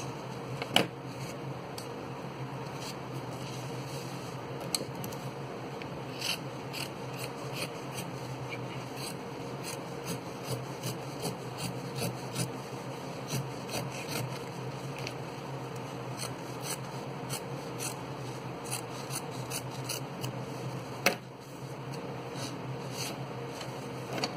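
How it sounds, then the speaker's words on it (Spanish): Scissors cutting fabric strips for a flower headband, soft repeated snipping and rubbing close by in a quiet room, with irregular clicks throughout. "ya voy a cortar aquí"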